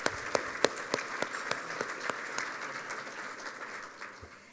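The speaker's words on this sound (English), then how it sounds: "Let's give a round of applause for that." Audience applause at a city's State of the City address, a moderate, fairly distant round of clapping with a few sharp claps standing out, tapering off toward the end.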